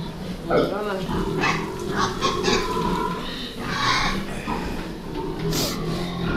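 Pigs grunt and squeal in a busy pen, a continuous noisy chorus with someone talking over it.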